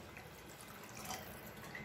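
Rice-soaking water being poured into a cooking pot, a continuous close trickling and splashing stream at moderate level, no speech.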